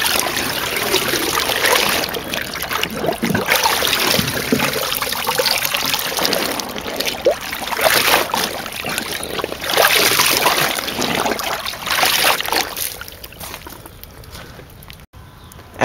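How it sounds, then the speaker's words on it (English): A ghillie suit is sloshed and rinsed in a bucket of clean water, with repeated close splashing, trickling and dripping that swells and fades in waves over about sixteen seconds. "throw it in a bucket of clean water to rinse it off"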